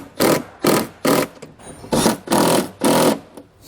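Nuts are run down with an 11mm socket on a MaxxAir Standard roof vent cover fitted to a 2009 Forest River Cedar RV roof, heard as six short, loud bursts of whirring, evenly spaced and alone.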